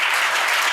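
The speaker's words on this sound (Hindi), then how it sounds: "जोरदार तालियां।" An audience applauds theatre performers after a stage drama, a loud, dense burst of clapping from a crowd, close and steady for a short moment.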